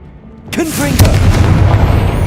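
A Confringo blasting spell goes off in Hogwarts Legacy, a loud booming blast with a short whooshing lead-in followed by a rolling, rumbling tail.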